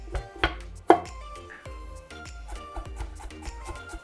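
Knife slicing beef-and-broccoli ingredients into thin pieces on a cutting board, a string of crisp, evenly spaced taps and cuts, with a sharper knock near the start, under quiet background music.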